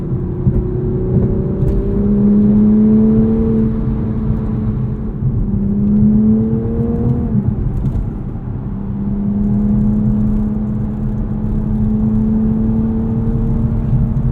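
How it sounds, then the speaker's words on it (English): A 2022 grey Toyota Supra Premium driving in sport mode with its automatic transmission holding gears: a steady, loud engine drone whose pitch climbs and settles through gear changes, with no talking. "Transmission does a great job in sport mode holding gears and automatic."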